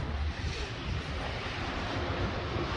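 Wind gusts outdoors beside abandoned shops on Elm Street, buffeting the microphone with a fairly loud, continuous low rumble and hiss that swells and dips slightly.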